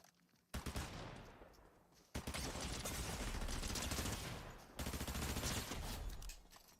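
Rapid bursts of gunfire in the video game Fortnite, loud and dense, starting after a brief quiet moment and continuing in sustained volleys with short gaps, with no talking over them.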